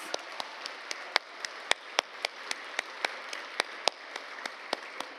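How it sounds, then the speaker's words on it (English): Applause for Erin at the EarthCorps reunion gathering, soft and fairly distant, with a few sharper individual claps standing out at a steady pace from a sparse crowd. "Can we just give a great round of applause for Erin"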